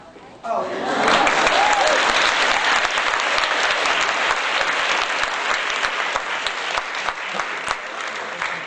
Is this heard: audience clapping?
yes